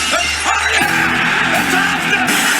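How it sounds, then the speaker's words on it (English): Glass shatters loudly at Stone Cold Steve Austin's wrestling entrance, a bright crash over a roaring arena crowd that yells and cheers throughout. "As soon as the glass broke, you knew it was about to go down."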